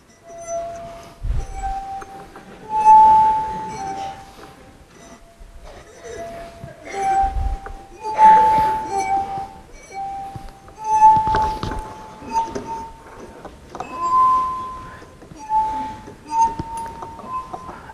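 A wet finger circles the rim of a glass, drawing sustained, ringing tones that shift in pitch from note to note to pick out the tune of Mary Had a Little Lamb, with brief pauses and faint room noise between phrases.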